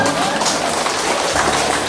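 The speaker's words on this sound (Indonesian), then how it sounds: "Kita tepuk tangan dulu untuk neraka." An audience claps steadily and loudly throughout at the fifth-anniversary celebration of Wendu Beach tourist site, a dense continuous wash of applause with no pauses.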